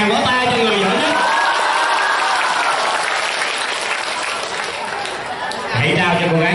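Students and audience at a school career-guidance event at Tam Quan secondary school burst into sustained, loud crowd applause. It lasts several seconds, with a voice heard briefly at the start and again at the end.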